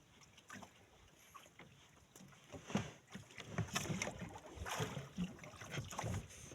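Oars work a small rowboat through the sea during squid fishing, with steady watery sloshes and splashes under constant gusting wind noise and no voices.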